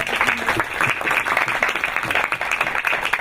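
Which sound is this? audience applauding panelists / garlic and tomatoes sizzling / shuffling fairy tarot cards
audience applauding panelists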